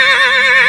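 A magic horse in an animated fairy tale gives a short, loud, bright neigh with a wavering whinny, heard alone and close.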